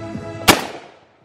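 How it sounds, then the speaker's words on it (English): A single sharp crack from an airsoft gun fires close to the microphone, preceded by faint handling noise and followed by a brief fading echo. "Fozzie, what are you shooting? Freaking airsoft, bro."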